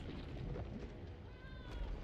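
A cat meows in the fighting game Injustice 2, a faint drawn-out wavering cry rising and falling over dense, steady game background noise.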